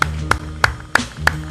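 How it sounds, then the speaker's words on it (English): Five crisp hand claps spaced evenly about a third of a second apart in a studio, close and distinct, with no voices over them. "I want my people in the studio to give me an applause."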